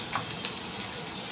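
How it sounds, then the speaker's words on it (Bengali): Chili, chopped onion and tomato frying in hot oil, a brief close crackling sizzle with a couple of small pops. "তেলটা গরম হয়ে গেছে, আমি একটু লঙ্কা দিয়ে দেবো, পেঁয়াজ কুচি দেবো,"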